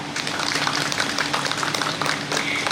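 Applause for the hosts at a 55th wedding anniversary celebration, a steady, dense patter of many hands clapping together indoors, sustained evenly throughout without a break.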